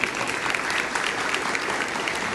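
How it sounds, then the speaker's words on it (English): A school crowd at a middle school Veterans Day ceremony claps in a brisk, continuous round, with many hands blending into an even, fairly loud wash and no pause. "a round of applause for the school,"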